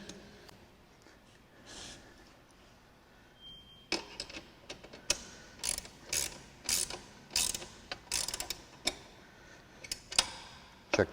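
Bike bolts are tightened with an 8mm Allen key and a 17mm spanner on a Bluerev TRIO e-trike, giving close, crisp metallic ratcheting clicks in irregular bursts after a quiet start.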